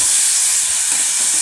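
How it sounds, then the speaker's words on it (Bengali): Onion and garlic paste frying in a pan for a home-style fig curry, a steady, close, loud sizzle and hiss with no talk. "আগে পেঁয়াজ রসুন পেস্টটা সামান্য একটু ভেজে নেব"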